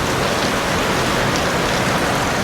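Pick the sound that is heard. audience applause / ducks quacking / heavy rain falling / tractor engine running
heavy rain falling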